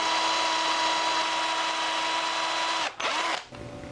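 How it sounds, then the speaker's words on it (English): A power drill bores into a wooden striper and musky glide bait, a steady high motor whine that bogs and winds down near the end. "I'm gonna drill this in."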